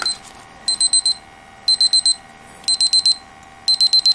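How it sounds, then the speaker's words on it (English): A vintage 1988 Linden travel alarm clock with a flashlight rings in loud, close electronic bursts, four rapid beeps per group, with groups repeating about once a second. "So I press the snooze button, that shuts it off, and I can shut the alarm back off again if I don't want it."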